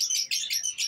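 Birds kept in cages among pigeon pairs give short high chirps in a quick series of four bursts, close and fairly loud, with no talking.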